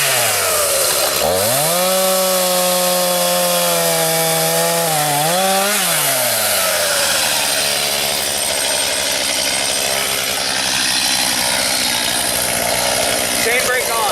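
Stihl MS 251 C chainsaw cutting wood, its engine revving up loudly to a steady high whine, then dipping and bogging down as the chain bites into the cut, with rough sawing noise continuing throughout.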